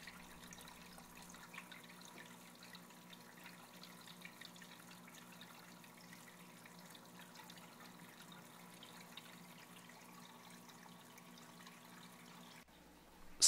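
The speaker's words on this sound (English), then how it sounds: "Dip the test tube into the water in your aquarium and fill it to the" Aquarium water fills a test tube for a pH test: a steady, soft trickle of water over a low, even hum, continuing alone without any talk.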